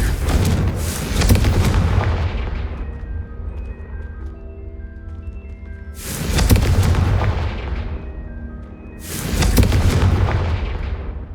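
The Confringo fire spell in Hogwarts Legacy goes off as three loud, booming blasts, each with a long rumbling decay and ringing tones trailing away between them.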